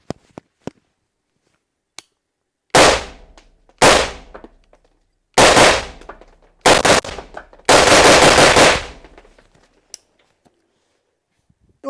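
Unsuppressed rifle fitted with a B&T muzzle brake fires five loud, sharp gunshots with ringing decays; the last is a rapid cluster of several rounds. A few faint clicks fall between the shots.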